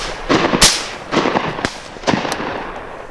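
Shotgun blasts at a driven duck shoot in Monfortinho, Spain: several sharp, loud reports spaced apart over a few seconds, some near and some farther off, in open air.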